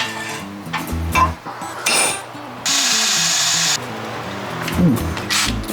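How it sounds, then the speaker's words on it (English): Power drill whirring in short bursts, drilling holes in metal shock brackets on a 1948 GMC pickup truck, with a sustained high grinding stretch in the middle and clanks of tools between runs. "So we'll punch mark those, drill those guys out."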